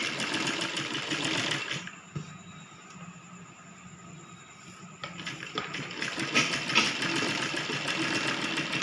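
A sewing machine stitches along the edge of a baby girl's 3/4 frock in short runs, with a brief pause partway through, the close mechanical whir steady and moderately loud.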